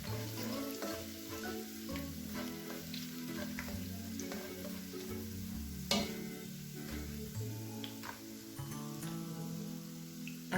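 Kashmiri chilli powder sizzles in hot oil in a pan while cooking chilli chicken, giving a steady, close frying hiss with occasional soft scrapes and clicks of stirring throughout.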